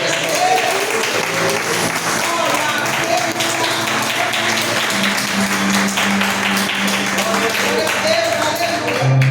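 A church congregation claps hands in praise during worship: dense, continuous applause holds steady across the whole stretch, with voices and sustained musical tones underneath.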